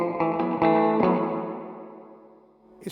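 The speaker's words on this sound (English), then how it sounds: "spring reverb pedal on." Electric guitar through a MoSky spring reverb pedal: a few quick strummed chords, then a long ringing decay that fades over about two seconds.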